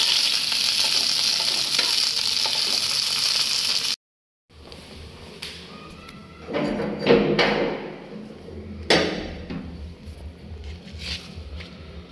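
Quail eggs fry in hot oil at home with a steady loud sizzle, then a brief silence and quieter sizzling marked by stirring thumps and scrapes.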